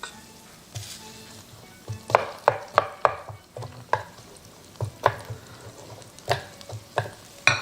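Onion cooks in melted butter in a pot over medium heat: a soft sizzle runs under repeated scraping and tapping from stirring, in an irregular rhythm.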